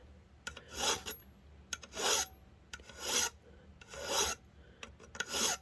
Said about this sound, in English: So I'm just carefully filing this.